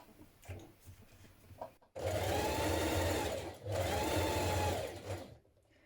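A sewing machine stitches the side seams of a 1970s vintage wrap dress at a 1.5 cm seam allowance, running in two loud, steady bursts split by a brief stop, with quiet handling sounds before.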